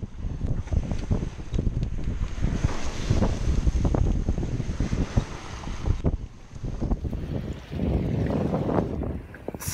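Wind buffeting the microphone and waves washing against a sailboat under sail at sea between the Philippines and Borneo, a loud continuous rushing roar with surging gusts and a brief lull midway.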